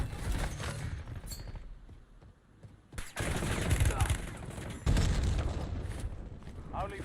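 Rapid bursts of gunfire in the Black Ops Royale battle royale video game crackle throughout, loud and dense, with heavier volleys near the three- and five-second marks and game voice callouts mixed in.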